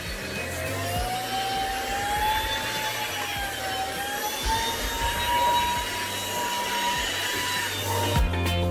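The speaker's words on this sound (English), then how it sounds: "You may be able to hear the sound of the motor changing, and that is when the intelligent dust sensor is kicking in." An Ultenic U10 cordless stick vacuum runs over a shaggy rug with a continuous, steady high whine and airy rush, its motor pitch drifting slightly up and down, with no talking.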